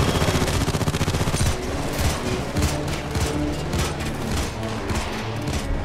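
A heavy shootout in the game PayDay 2 during a bank heist on safe deposit boxes: loud, nonstop automatic gunfire from several weapons, with rapid volleys overlapping throughout.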